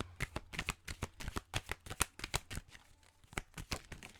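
Tarot cards being shuffled by hand, a quick run of crisp riffling flicks and soft card slaps in steady bursts, close and clear with no talking.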